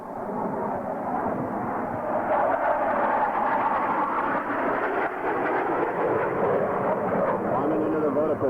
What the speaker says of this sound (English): the power is eased as the aircraft round out the backside of this biplane line abreast loop